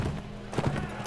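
A horse gallops in the medieval battle game Mount and Blade: Warband, its hoofbeats pounding in a quick, muffled rhythm over a brief, busy ambient bed.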